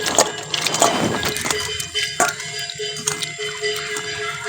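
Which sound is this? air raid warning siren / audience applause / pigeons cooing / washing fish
washing fish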